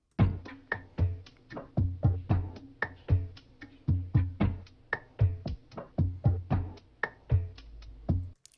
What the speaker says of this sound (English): I added 2 percussion loops.